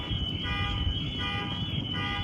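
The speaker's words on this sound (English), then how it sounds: "You can hear all the cars' alarms downstairs going off." Car alarms wail from the vehicle deck of a departing ferry, with several overlapping, pulsing electronic tones rising and falling over a low engine rumble, moderately distant.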